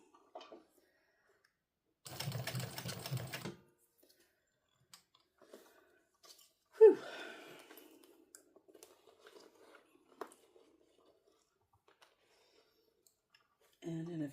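A sewing machine runs a short burst of a few quick stitches on an Acacia crossbody bag, about a second and a half of steady whirring, followed by scattered clicks and handling noises in a quiet room.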